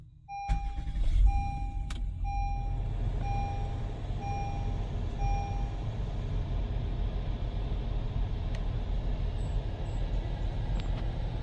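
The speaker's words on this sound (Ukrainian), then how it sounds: "Давайте заведемо автомобіль." A few soft electronic chime beeps sound as a nearly new 2024 Honda Odyssey EX-L minivan starts, its engine settling into a steady low idle rumble that continues to the end.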